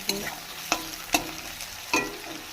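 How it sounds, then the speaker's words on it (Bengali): Pointed gourd, potato and eggplant fry in oil with onion, cumin and chili, a soft sizzle broken by four sharp clattering stirs of the spatula in the pan. "পেঁয়াজ, জিরে, লঙ্কা তেলে দিয়ে আর সবজিগুলো সব দিয়ে, পটল, আলু, বেগুন এসবগুলো দিয়ে ভাজা ভাজা"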